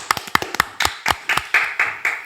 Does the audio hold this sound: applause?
yes